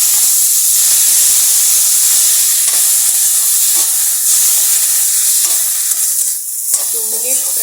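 Fenugreek leaves and garlic fry in a pan with a loud, continuous sizzling hiss and occasional stirring scrapes, close up and steady, with a brief voice near the end.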